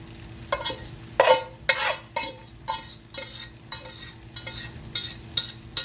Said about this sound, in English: we're just gonna mix this around a little bit